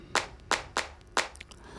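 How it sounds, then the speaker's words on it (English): Layered hand clap samples in a music production, stacked and panned to suggest people clapping in a room; four crisp, separate claps land in an uneven rhythm, clean and alone with no voices. "it's layers and layers and layers of these claps penned like in different spots and different places to kind of like create a feeling of people in a room like clapping hands"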